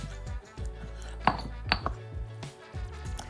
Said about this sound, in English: we're gonna go with our mortar and pestle, and we're going to just slowly combine that